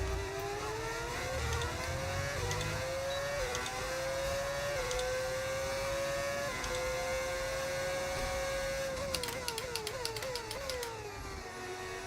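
F1 race car engines in the F1 25 video game while overtaking a Sauber, a high, smooth whining engine tone climbing through gears with brief shift dips, steady and moderately loud, with a clattering burst near the end.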